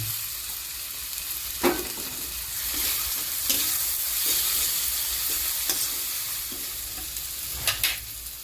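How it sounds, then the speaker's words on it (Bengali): Fried potatoes are stirred into sizzling masala of cooked-down tomato for an omelette curry, giving a continuous close hiss with a few sharp clinks and scrapes of a spoon against the pan. "এবার আমি এর মধ্যে এই ভেজে রাখা আলুগুলোকে অ্যাড করে দিচ্ছি"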